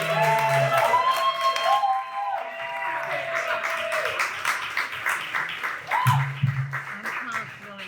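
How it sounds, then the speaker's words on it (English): A comedy club audience applauds and cheers to welcome comedian Billy Raim, with dense clapping and whoops filling the room throughout, while music and some voices sit underneath. "warm welcome, big round of applause for my friend Billy"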